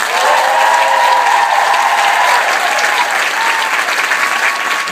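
A concert audience aboard a music cruise breaks into loud, sustained applause with whistles and cheers, easing slightly toward the end.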